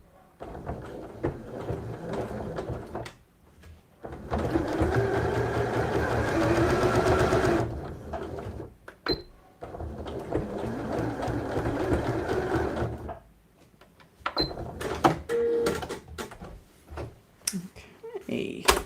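A sewing machine stitches a side pouch in bursts of steady running separated by pauses, with a person talking in the gaps between the runs.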